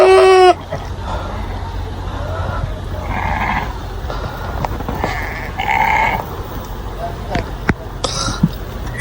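Sheep and goats bleating at a goat farm in Saudi Arabia, several wavering calls scattered over steady background noise, moderately near, with occasional clicks and a brief tonal sound at the start.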